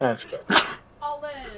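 A person gives one sharp, loud sneeze in the middle, with speech just before and after it.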